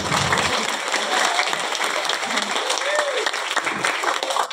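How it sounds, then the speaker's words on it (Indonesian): Audience applause at a class IX graduation announcement ceremony at an Indonesian school: dense, steady clapping fills the whole stretch, with a voice talking over it. "Yang terhormat tepuk tangan dulu dong"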